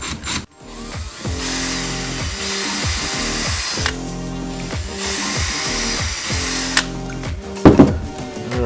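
A cordless power drill fitted with a tiny drill bit whirs steadily for several seconds, its motor pitch rising and falling as the trigger is eased. Two short higher-pitched bursts come near the end, close up with no talking.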